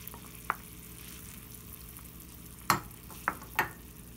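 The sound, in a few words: minced meat and tomato juice frying in pan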